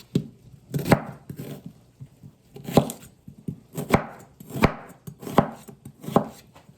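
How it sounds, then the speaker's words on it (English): A thin, skinny knife chops an onion on a board: a string of crisp, close knocks in an uneven rhythm with short pauses between bursts, no voices. "So I'm gonna chop up this onion."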